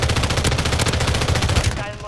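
Loud, rapid automatic gunfire in a Call of Duty match: a dense burst of repeated shots that carries on steadily, then cuts off near the end.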